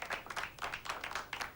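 Applause for Ben at a meeting: a small group claps in short rhythmic bursts, fairly close and moderately loud, with no talking over it.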